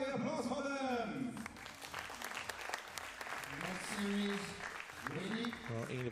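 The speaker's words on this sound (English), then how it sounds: "Everybody applause for them." An audience applauds at a women's junior 25m pistol shooting final. Clapping runs throughout under a loud announcer, with cheers and shouted voices rising and falling over it.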